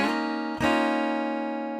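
A guitar plays the sliding opening chord of a song. One sustained chord rings, slides into a new position midway and keeps ringing, close and moderately quiet, with no talking.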